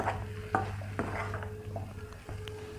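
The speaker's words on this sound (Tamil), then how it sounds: "ஒரு நிமிஷம் இதை நல்லா கிளறி விடுங்க." Grated coconut being stirred into a capsicum egg fry in a pan, with a few sharp spatula knocks and scrapes against the metal over a steady low hum.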